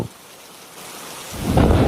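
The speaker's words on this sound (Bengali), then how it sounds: "ঘন ঘন মেঘের গর্জন, সাথে অঝরে বৃষ্টি বইছে বাহিরে।" Heavy rain pours steadily, and a deep rumble of thunder swells toward the end.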